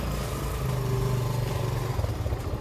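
A motorcycle engine runs steadily under throttle during a practical riding lesson, a close, continuous mid-pitched drone that rises slightly in the middle and carries some clatter, with no talk over it.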